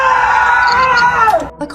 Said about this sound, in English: The man was shouting with all his strength.